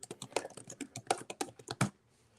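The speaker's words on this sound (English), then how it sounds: "That was me typing, guys." Quick bursts of typing on a work computer's keyboard, a dense close run of clicky keystrokes for about two seconds that stops abruptly, with no voices.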